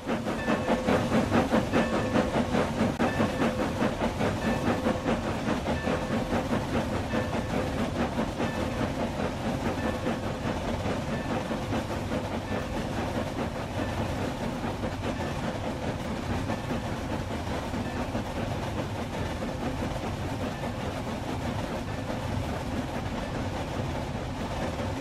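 A steam train departs and runs along the rails on a southern rural line, its chuffing and hiss steady and loud throughout, with rolling wheel noise and no voices.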